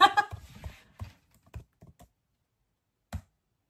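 A few keys are tapped on a computer keyboard to type a search word: a quick cluster of soft clicks, then scattered single taps and a last isolated keystroke, close and quiet in an otherwise silent room.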